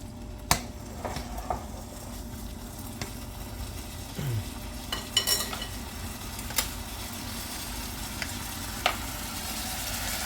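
Soft, steady sizzling of beef bulgogi frying in a pan, with occasional clinks and scrapes of a utensil stirring, quiet and close.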